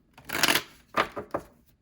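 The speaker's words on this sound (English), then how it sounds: "Let's shuffle one more time." Tarot cards are shuffled up close in a few quick riffling bursts, one longer rustle followed by three short snaps, with no talking.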